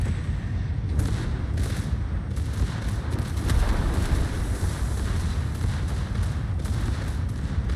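Secondary guns on a ship fire in a naval video game, a dense, loud, rumbling barrage of overlapping booms with a few sharper reports standing out against constant low roar.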